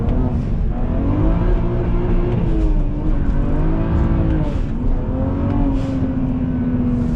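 Inside a 400 hp BMW 335is with a manual gearbox, the engine revs loudly and steadily, its pitch rising and falling as the clutch slips. The sound is close and continuous with no talking.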